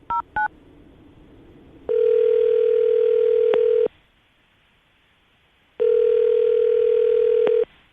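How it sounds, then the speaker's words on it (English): Telephone call being placed, with a brief burst of dialing tones followed by two long, steady ringback tones separated by silence, loud and clear on the line with no talk. "I'm going to call him right now and see if we can get him on the phone"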